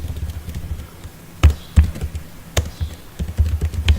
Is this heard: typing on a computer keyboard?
yes